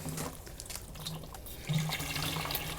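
Water runs steadily from a garden hose onto potted seedlings, a continuous soft splashing and gushing hiss with slight swells in flow, fairly close and with no talk over it.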